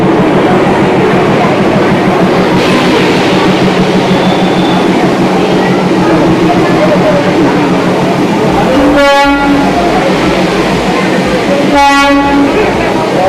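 Darjeeling toy train at Ghum station, a loud steady rumble of the train filling the scene, with two short horn toots near the end.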